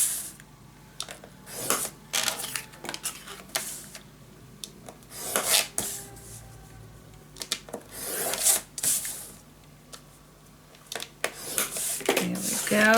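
A scoring tool runs along paper to score three sides of a pocket for a scrapbook mini album, making several short, separate scraping strokes close up amid quiet handling noise.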